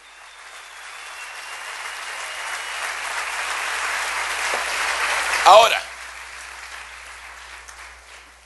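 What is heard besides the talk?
church congregation applause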